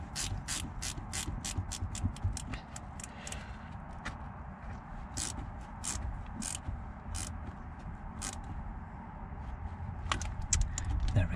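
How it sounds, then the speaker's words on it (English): Ratchet socket wrench being worked on a rounded bolt, producing quick bursts of sharp clicking pawl ratchets close by, in uneven runs separated by short pauses in a quiet space. "I'm really having to hold this socket on to this rounded bolt"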